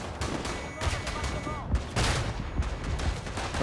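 Gunfire crackles through a chaotic battle in the World War I shooter Verdun, with repeated sharp shots and bursts layered over constant combat noise and brief voice.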